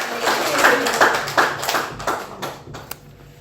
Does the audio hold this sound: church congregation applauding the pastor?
yes